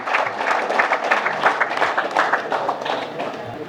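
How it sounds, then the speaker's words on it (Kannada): Audience applause at an event honouring a soldier selected for the Agniveer army programme: steady, dense clapping from a crowd, filling the whole stretch at moderate loudness with no break. "ತಮ್ಮ ಜೋರಾದ ಚಪ್ಪಾಳೆಯ ಮೂಲಕ ನಮ್ಮ ಸಂಸ್ಥೆಯ ಪರವಾಗಿ ಅಭಿನಂದನೆಗಳನ್ನ ಸಲ್ಲಿಸೋಣ"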